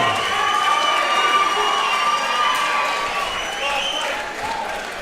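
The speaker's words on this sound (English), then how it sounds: "Let's make some noise for Jay, the beast from the east, Odell." A large crowd at a combat sports fight cheers and applauds loudly, with whistles and shouts riding over a continuous roar of clapping.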